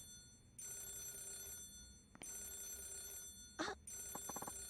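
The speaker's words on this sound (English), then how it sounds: "could you get the phone?" A telephone in the video game Yakuza 0 gives faint, repeated electronic rings in short bursts separated by brief pauses, with a small clatter near the end.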